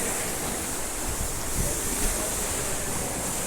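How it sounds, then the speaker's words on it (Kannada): Water pouring down from above at a waterfall along a hidden trek route near Gokarna, a steady broadband rushing roar that stays even throughout, with no voices over it. "ನೋಡ್ತಾ ಇರ್ಬೋದು ಮೇಲ್ಗಡೆ ನೀರು ಬೀಳ್ತಾ ಇದೆ."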